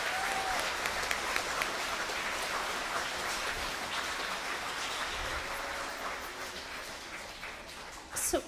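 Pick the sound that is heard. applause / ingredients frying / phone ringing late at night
applause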